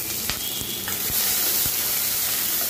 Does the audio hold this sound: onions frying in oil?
yes